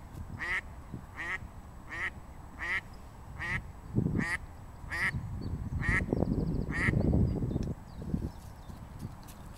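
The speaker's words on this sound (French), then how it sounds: "C'est un canard." Ducks quacking in a rhythmic series of loud, nasal calls at close range, with clip-clopping hooves and low rustling underneath.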